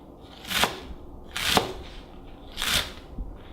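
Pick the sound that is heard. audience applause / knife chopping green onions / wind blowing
knife chopping green onions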